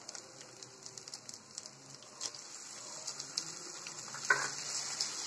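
Tomatoes frying in a pan with cooked onions for egg biryani, a steady soft sizzle close by with scattered little pops and a brief clatter near the end, no talk over it.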